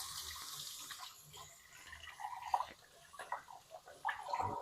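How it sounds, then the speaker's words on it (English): Hands are washed under a running kitchen tap during home cooking. The water runs softly and steadily at low volume, with faint splashes and handling noises and no talking. "Let me wash my hands."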